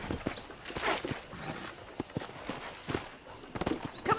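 A horse walks in Red Dead Redemption, its hooves landing in an irregular, moderately close clip-clop with soft ambient game sound behind it.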